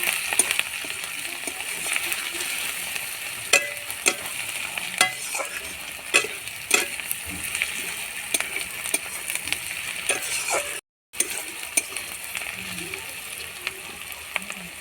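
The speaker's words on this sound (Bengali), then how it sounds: "এবার কুচনো পেঁয়াজগুলো ভেজে নেব।" Chopped onions with a dried red chilli sizzle steadily in a pan for a chicken curry, with repeated scraping stirs and light clinks of a utensil against the metal, close and continuous.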